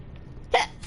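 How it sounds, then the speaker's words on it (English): A single short hiccup from a player character in the underwater survival game Subnautica, a brief sharp burst over quiet game ambience. "Ugh, hiccups."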